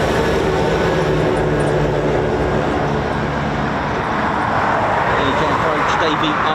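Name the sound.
Eurofighter Typhoon FGR4 jet engine spooling up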